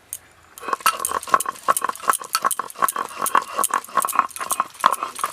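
Onion and tomato are crushed and ground into a paste for a cabbage dish, producing close, rapid, rhythmic scraping strikes that repeat steadily with short gaps between strokes.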